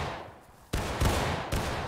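Musket fire at a historical reenactment training drill, with three loud, broadband shots at irregular intervals, close by, and no talk between them.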